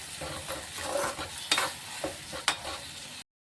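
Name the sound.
stirring ground onion-tomato masala in a pan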